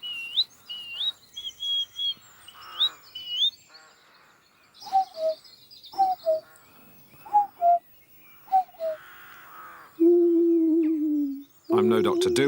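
A man whistles and vocalizes his own bird calls, imitating birds with warbling chirps, slurred whistled notes and short cooing hoots in a quiet outdoor spot, followed by a longer sustained tone and a burst of breathy noise at the end.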